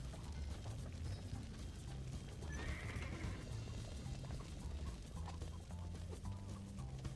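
A horse in The Lego Movie Videogame's Old West level whinnies and its hooves clip-clop steadily, the neigh rising briefly in the middle over a continuous busy game background with no talking.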